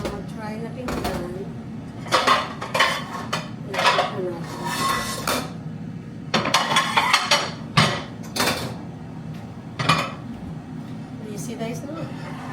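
Plates and cutlery clink and clatter in a kitchen sink during dishwashing, sharp irregular knocks and rattles coming close, with a voice talking intermittently between them.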